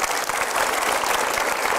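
An audience at a talk show event applauds in a dense, steady wash of clapping, loud and sustained with no pause.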